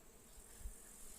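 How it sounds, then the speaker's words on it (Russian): Honey bees buzzing at an apiary as they work a patch of fireweed on a warm July day, a faint, steady low hum with no voices. "Пчелки пошли на иван-чай."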